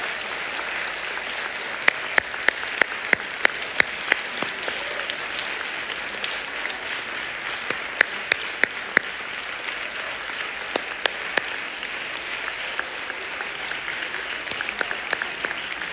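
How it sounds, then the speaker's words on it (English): Kids at a church worship service clap hard for their teachers, a sustained burst of applause with sharp individual claps standing out near the front, heard alone without talk. "I want you to clap really hard for these teachers."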